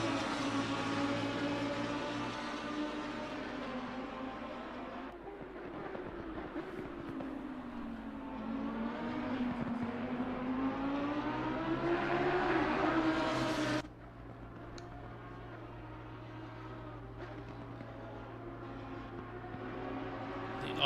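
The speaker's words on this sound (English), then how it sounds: "idle engine of cars in the background, still in the pits" Lamborghini Super Trofeo race cars idle in the pits in a sim racing game at Zolder, a steady low engine drone with shifting tones that rises, then drops suddenly to a quieter idle.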